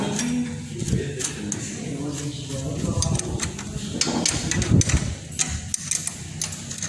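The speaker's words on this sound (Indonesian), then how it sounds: "Lalu kita kencangkan baut 4 ini dengan menggunakan kunci 12 menyilang." Metal wrench clicks and taps while a 12 mm wrench tightens four cylinder head bolts in a crisscross pattern on a Yamaha Mio Sporty scooter engine, with light irregular clinks close by and a voice talking underneath.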